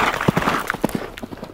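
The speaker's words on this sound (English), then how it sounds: "I could hear the horse breathing, galloping, and its hooves hitting the floor" A horse gallops at full speed across the Sussex Downs, its hooves striking the ground in a quick, uneven run of close thuds with breathy noise between them.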